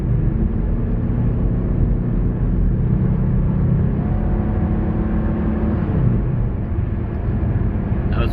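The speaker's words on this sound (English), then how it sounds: "The car didn't want to upshift." A Subaru SVX drives along with its engine held at steady revs and not upshifting, giving a continuous loud, low droning rumble from inside the car.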